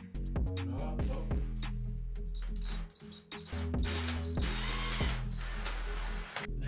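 A screwdriver or drill drives screws into wall plugs while a shower screen is being fixed, giving a close run of ratcheting clicks and whirring bursts with a brief pause midway.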